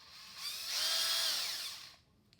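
A handheld power drill with a progressive trigger spins up, runs steadily for about a second and a half with a rising whine, then winds down to near silence.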